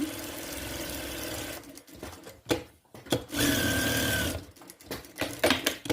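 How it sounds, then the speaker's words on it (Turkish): A sewing machine stitches the fabric edges of a triangular sun pillow piece, whirring in loud runs that stop and start again in short, uneven bursts. "Kenarlarından dikiyorum."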